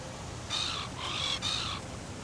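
A seagull at its nest in the adventure game Willy Morgan and the Curse of Bone Town gives three harsh, drawn-out squawking calls, faint against a low background hum.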